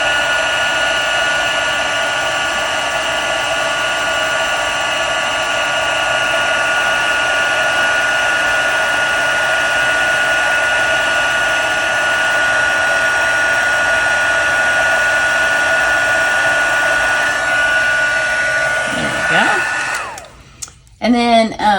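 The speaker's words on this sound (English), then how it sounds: "Don't wave your heat gun over, because then you miss areas." A heat gun blows hot air for heat embossing on a card, a steady loud whirring blast held for about twenty seconds before it switches off, followed by brief handling noise.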